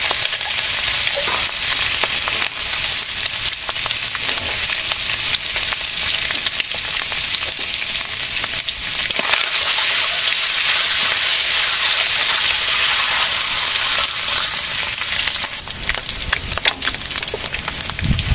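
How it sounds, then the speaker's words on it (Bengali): Eggs frying in a pan for egg curry in a village kitchen, a loud, continuous sizzle with dense crackling and spatter that runs the whole time, with no talking. "ডিম ভাজি হয়ে গেছে"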